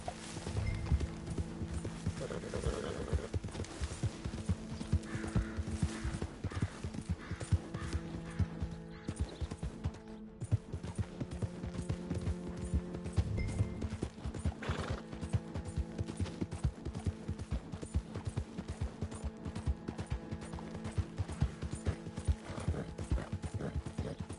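A horse gallops in Red Dead Redemption on PS4, a steady fast clip-clop of hooves running throughout with an occasional whinny, fairly quiet and with no talk over it.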